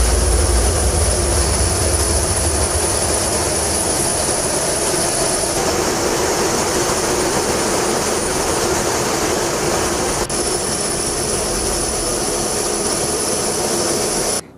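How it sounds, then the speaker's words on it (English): Jet aircraft, a U.S. Air Force B-1 bomber with fighter jets, roaring loudly and steadily overhead for the whole stretch, a dense continuous engine rumble with high turbine hiss and no voices. "U.S. Air Force B-1 bombers out of Guam, as well as fighter jets out of Okinawa, Japan, flying over international waters"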